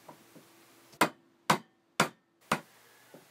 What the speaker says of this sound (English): I was quite surprised how well this wood reacted to the chisel.